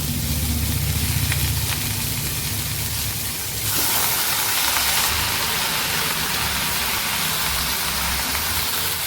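Shredded cabbage fries in a pan, making a loud, steady wash of sizzling hiss that continues without a break and grows slightly stronger partway through.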